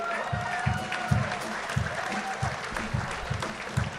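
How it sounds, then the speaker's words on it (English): An audience at a live comedy show applauds and cheers over a loud, thumping dance beat with a steady pulse running underneath. "Can we give a round of applause for Lou Bega's Mambo No. 5?"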